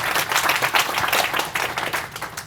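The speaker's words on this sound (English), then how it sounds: "Round of applause," Audience applause at an evening fireside chat, a steady dense wash of many hands clapping for over two seconds with no voices over it.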